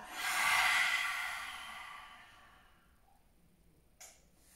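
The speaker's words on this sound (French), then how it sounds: "On inspire. Et on expire." A slow, deep breath during a calm relaxation exercise, a long airy exhale that fades gradually, close and soft, followed by a short faint breath.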